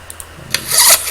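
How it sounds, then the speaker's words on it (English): Knife being repaired in the survival video game The Long Dark, a short scraping, rasping rub that ends in a brighter grinding swell. "Let's go ahead and repair that knife"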